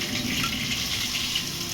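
Steady crackling and spluttering of mustard seeds popping in hot oil, a continuous dense sizzle with no talking.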